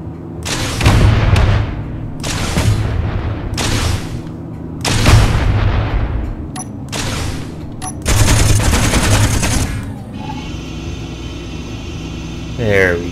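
Mech weapons firing in the game Space Engineers, a modular mech unleashing several loud, close bursts of rapid gunfire separated by short pauses, with a mechanical hum between volleys and a voice talking over it.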